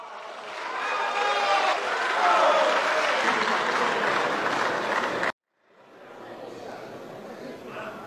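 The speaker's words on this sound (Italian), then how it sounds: "Prego, applauso." Loud sustained applause from a parliamentary-style audience, dense clapping with crowd noise that runs for several seconds, cuts out abruptly, then resumes more faintly.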